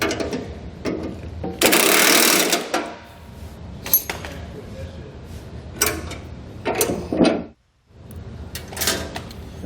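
A bolt is tightened with a 19mm socket and an 18mm wrench while installing a K2 snowplow on a 2018 Jeep JL Wrangler; close ratcheting clicks and metal clunks come in irregular bursts, with one loud rattling stretch and a brief silence.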